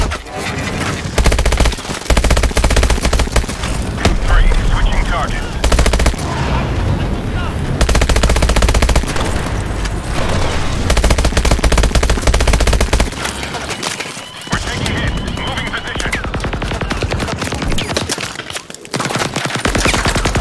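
Machine gun fire from the video game Call of Duty: Advanced Warfare rattles in loud, dense, sustained bursts with rapid rhythmic shots and a few brief lulls, mixed with battle noise.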